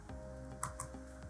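Keys typed on a computer keyboard while setting up a new user for a virtual machine, a few soft clicks over a steady low hum of background noise.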